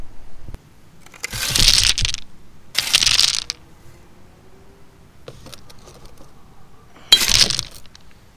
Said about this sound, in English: now we're going to start filling with some stones